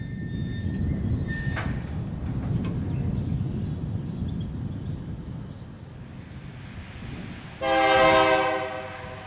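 A long CF&E manifest freight train led by GE Dash 8 locomotives rumbles steadily past at Calumet Park Junction, with a brief high squeal early on and a loud multi-tone horn blast near the end.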